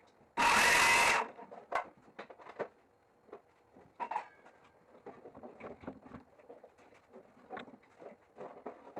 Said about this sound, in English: I'm going to cut this perimeter out.